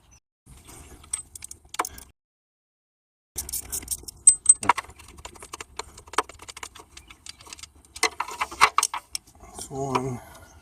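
Metal clinks and ratchet-like clicks from a 10mm bolt being unscrewed off the water pump of a Volvo S80, close and irregular, with a silent gap early on and short bursts of handling noise.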